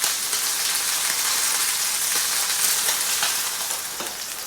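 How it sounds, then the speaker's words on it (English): Chuck roast sears undisturbed in a hot pan, giving a steady, bright sizzle with soft popping crackles all through and no talking. "we really want to just leave the chuck roast for a couple minutes so we can get a nice sear on each side of it"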